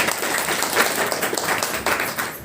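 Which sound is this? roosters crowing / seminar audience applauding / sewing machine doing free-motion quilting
seminar audience applauding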